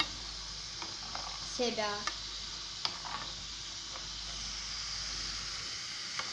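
Homemade french fries sizzle in hot oil while being stirred, a soft steady hiss with a few scraping and tapping sounds and a brief spoken word.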